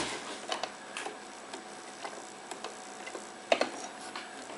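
An old PMZ sewing machine from 1960 is turned by hand, its mechanism giving soft, irregular ticks and clicks with one sharper knock, quiet and close.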